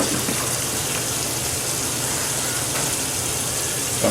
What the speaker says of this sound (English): So we're going to wash the sausage